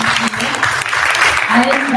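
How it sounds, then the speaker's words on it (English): Applause at a conference panel session, loud dense clapping from the audience with a voice speaking over it throughout the short burst. "everybody give her a round of applause"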